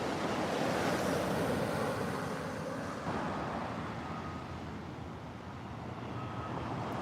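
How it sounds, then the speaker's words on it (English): Ocean surf rolling onto a beach at sunrise, a continuous broad wash of waves with some wind noise and no talking. "The beautiful beach."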